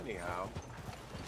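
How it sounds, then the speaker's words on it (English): Horses' hooves in Red Dead Redemption 2 clop in a steady rhythmic patter close by, under a voice and a whinny-like tone. "A lot of horses coming up this."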